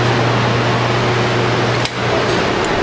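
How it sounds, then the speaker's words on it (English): Hot air dryer with a big motor and fan, used for drying parts after rack electroplating, running as a loud steady hum and whoosh with one brief dip near the end. "Basically what this is, it's a hot air dryer."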